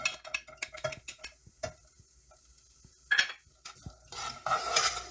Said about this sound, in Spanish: Ahora en un sartén vamos a poner el aceite y a fuego medio vamos a añadir la cebolla y el ajo